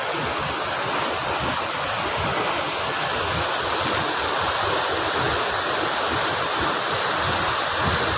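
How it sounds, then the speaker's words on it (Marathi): A waterfall at Arale village rushes in a dense, unbroken roar of falling water, loud and close, steady throughout with no voices over it. "अतिशय फारच असा सुंदर हा धबधबा आहे"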